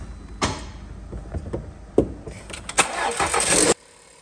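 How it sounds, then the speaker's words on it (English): A 2016 Skoda Rapid petrol car is started after new injector seals were fitted. Several clunks and a whirring crank lead into a loud, close engine catch and rev, which cuts off abruptly. "We're just starting the car to make sure there's no leaks"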